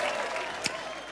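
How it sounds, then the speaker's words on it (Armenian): An audience bursts into sustained applause, a dense, even wash of clapping from a crowd at a live stage show, with one sharp louder clap near the middle. "ձեր ծափահարությունները"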